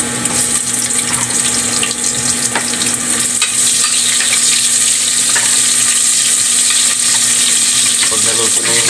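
Garlic and onion sauté in a hot pan for pork humba, making a loud, continuous close sizzle with occasional stirring scrapes underneath.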